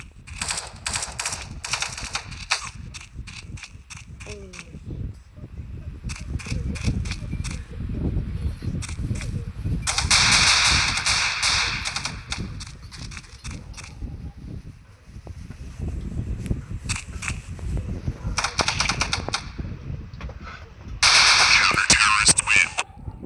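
Rapid video game gunfire, including sniper shots, comes in sharp bursts and single cracks, loud and close, separated by quieter gaps, with someone talking excitedly over parts of it.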